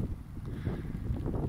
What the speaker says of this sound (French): vous entendez bien qu'il y a du vent